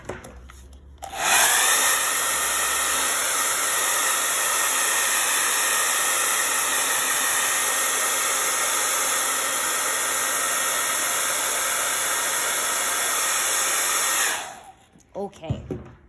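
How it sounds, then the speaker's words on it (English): A hair dryer blowing craft paint dry: a steady, loud, even whoosh that runs for about thirteen seconds, then cuts off, followed by a few faint handling sounds. "So I'm gonna blow this dry and fix it."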